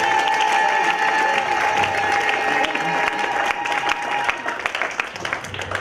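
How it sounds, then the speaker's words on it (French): Church congregation applauding during a pastor's sermon, sustained clapping and crowd noise filling the room with steady tonal hum, loud throughout and thinning slightly toward the end. "Est-ce que nous pouvons lui donner une bonne main d'acclamation?"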